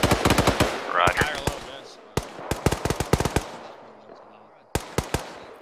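Gunfire in Arma 3, sharp individual shots and quick volleys with gaps between them, loud and close, one burst ringing out as a voice speaks over the shooting.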